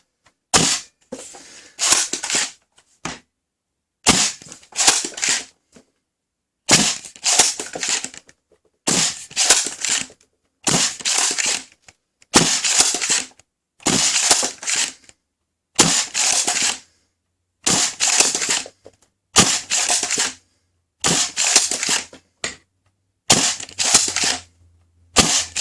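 A Worker Swift foam dart blaster with a 350 mm barrel and 1.2 spring fires about a dozen shots, each a sharp, loud snap followed by a brief rattle, spaced a couple of seconds apart with near silence between.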